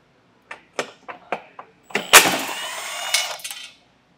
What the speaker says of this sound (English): Then we'll take a 15 millimeter and remove the nuts that are on the rear of the bumper.